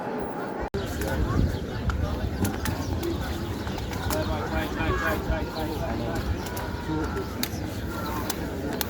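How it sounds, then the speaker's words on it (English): Pigeons coo and flutter at a mosque courtyard amid a busy outdoor ambience, the soft bird calls mixed with crowd murmur and scattered clicks, with a sharp knock near the start. "pigeon's life."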